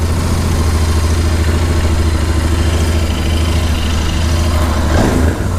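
A Royal Enfield Interceptor 650 BS6 2020 motorcycle idles after starting, its engine giving a steady, loud, close rumble that runs unbroken for several seconds, with no voices over it.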